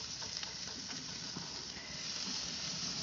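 Flank steak sizzles steadily in a hot pan, a continuous close frying hiss with faint crackles throughout and no voices.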